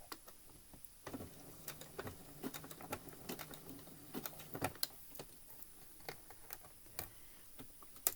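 A sewing machine running a zigzag stitch on a scout patch, quiet rapid ticking and tapping in irregular bursts, close but faint, with no talk.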